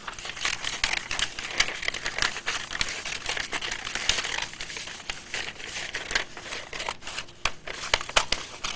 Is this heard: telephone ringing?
no